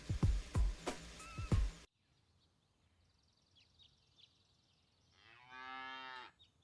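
A bull lowing in the video game Enshrouded, one drawn-out moo near the end, moderately loud and isolated, preceded by a few thumping game sounds and a quiet stretch with faint bird-like chirps.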